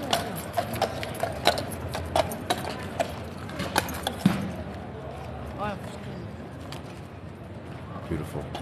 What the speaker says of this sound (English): The magnificent horse.